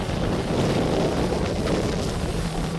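A speedboat runs across the reservoir at Banasura Sagar Dam in Wayanad, its engine and rushing water heard as a loud, steady roar mixed with heavy wind buffeting on the microphone.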